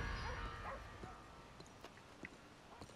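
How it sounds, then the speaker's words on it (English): Dog yips and barks in Red Dead Redemption 2, a few short, sharp calls scattered over a steady murmur of background game ambience, fairly soft and somewhat distant. "Oh, another dog."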